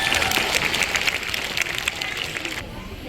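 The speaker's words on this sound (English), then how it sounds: "why don't we give Pepper and Keeper Jake a big round of applause" An audience applauds a seal and her keeper at a seal show, a steady wash of clapping that carries on for a few seconds and then drops off near the end.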